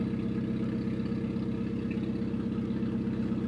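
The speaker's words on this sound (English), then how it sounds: "That's custom exhaust." A JDM Mazda Miata with a custom exhaust and Mazdaspeed wheels runs steadily close by, giving a low, even engine drone with no revving and no voices.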